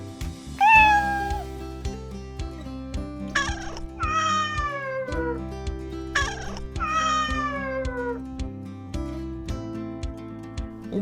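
Several cats meow in drawn-out, rising and falling calls, about five distinct meows spread across the stretch over a steady low background tone.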